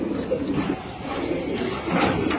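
Low, murmuring pigeon coos overlap continuously at close range, with a slight rise near the end.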